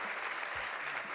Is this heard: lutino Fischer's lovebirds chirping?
no